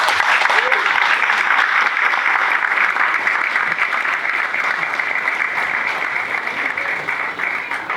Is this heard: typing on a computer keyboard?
no